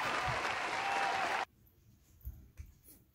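A crowd applauds loudly for about a second and a half, then it cuts off abruptly to near silence with a few faint knocks.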